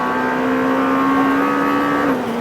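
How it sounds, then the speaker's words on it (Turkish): A Lamborghini Temerario V8 hybrid sports car hums on a race track with a loud, steady tonal engine drone that holds pitch, then dips slightly near the end. "Ve işte karşımızda yepyeni Lamborghini Temerario. Muazzam İtalyan markasının piyasaya çıkardığı ilk V8 hibrit."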